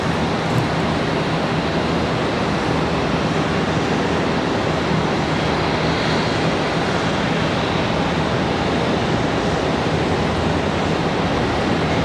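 An arriving airliner at Charlotte Douglas airport makes a dense, loud, continuous rushing roar that stays even from start to finish, with no speech.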